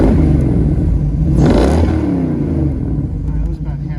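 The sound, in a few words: 1957 Corvette engine revving at half throttle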